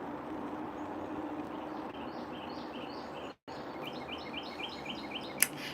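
Birds sing outdoors over a constant broadband background hum, with faint repeated chirps that grow busier and more rhythmic in the later half, plus one brief sharp tick near the end.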